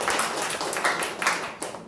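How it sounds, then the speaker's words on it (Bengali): Brief burst of applause from a small indoor group at a meetup, dense hand clapping that is moderately loud and continuous for a couple of seconds. "এটা হাততালি হয়ে যাক"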